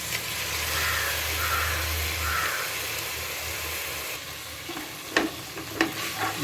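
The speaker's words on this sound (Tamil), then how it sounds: "கொந்தர கறியை நல்லா வதக்கணும்" Minced mutton frying with onion and tomato in a pan, a steady hissing sizzle that later gives way to a few distinct scraping stirs near the end, close up with no speech.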